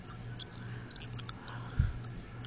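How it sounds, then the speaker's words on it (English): Soft, close chewing of gum sounds as faint wet clicks and squishes over a quiet background, with one louder bite near the end. "I'm chewing gum"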